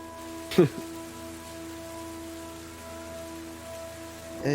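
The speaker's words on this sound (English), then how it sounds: "Just some rain and thunder." Rain ambience for a tabletop Dungeons & Dragons session: steady rain patters on a hard surface beneath a constant low electrical hum, with a single sharp knock near the start. No thunder stands out.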